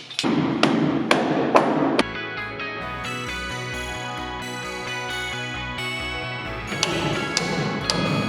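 Sharp hammer blows drive nails, a quick series of metallic strikes at first, then steady rhythmic knocking under a humming background before more hits.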